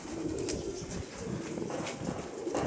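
A pigeon coos several times amid strong, gusting hurricane wind that roars steadily over the calls, with occasional bursts of wing flapping.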